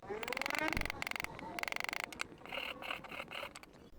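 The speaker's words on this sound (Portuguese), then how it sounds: "Mas vamos bater aqui a escória." A hammer chips welding slag off a fresh weld on a homemade stock for a Man Kung MK-50a1 crossbow: rapid, close metallic taps and clinks in bursts, a fast rattling run, then scattered scraping knocks.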